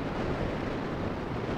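Steady, dense wind roar buffets the microphone during a paragliding flight in mountains within sight of Mont Blanc, continuous and loud with no other sounds.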